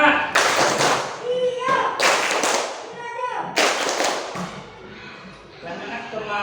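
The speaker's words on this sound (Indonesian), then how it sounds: "Coba tepuk semangat." Pupils in a classroom perform a spirit clap, sharp rhythmic bursts of clapping in several grouped patterns, with chanting voices between the claps.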